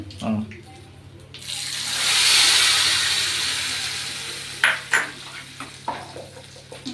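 Hot cumin and mustard seed tempering poured into peanut chutney, a loud sizzling hiss that swells and slowly fades, followed by a few clattering knocks of a pan and spoon.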